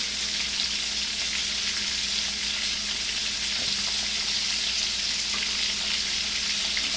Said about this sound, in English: I do like to put my pepper in the oil so it can kind of infuse it